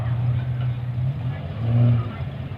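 A white utility drag racing car in lane 1 at a drag strip's Riverland Nationals, its engine giving a steady low rumble that swells briefly, while an announcer talks over it.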